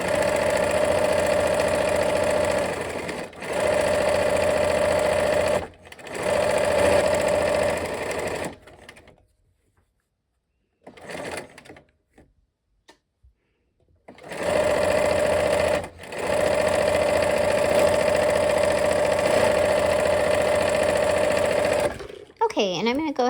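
A sewing machine stitches fabric in long steady runs, with a loud, close, continuous motor whir that pauses twice, then resumes through another long stretch, with faint handling noises in the quiet gap.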